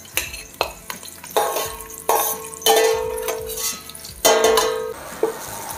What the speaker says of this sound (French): dans cette huile où a infusé notre chorizo, on va venir y verser nos pois gourmands. On les saisit